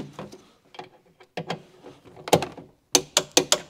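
Ratcheting clicks and metallic clunks of a torque wrench tightening bolts on a crashed Audi A1 during airbag and seat belt work, close by in irregular bursts, with a quick run of sharp clicks at the end.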